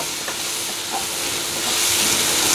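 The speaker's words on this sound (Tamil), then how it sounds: "இப்போ வெங்காயம் தக்காளி கொஞ்சம் வதங்கிருச்சு" Onions and tomatoes sauté lightly in a pan for an egg chapati kothu, giving a steady, close hiss and sizzle that grows slightly louder toward the end, with no talking.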